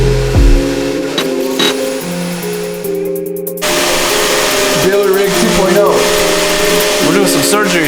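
A shop vacuum runs steadily and loudly while work is done on a cheap Audi S7 being rebuilt, with a continuous motor whine and airflow roar and a brief shift midway.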